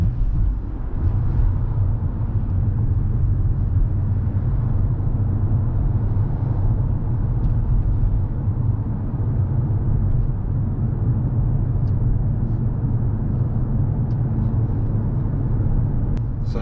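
A 2022 Mercedes-Benz C-Class W206 drives through a tunnel, with a steady, loud, low rumble of road and engine noise filling the cabin throughout.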